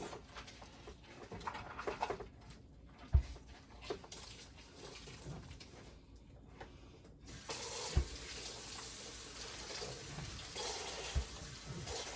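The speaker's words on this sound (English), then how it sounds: "Wash my hands off." A kitchen tap runs steadily while someone washes their hands during dinner preparation. The faint, continuous rush of water has a few soft clunks and splashes along the way.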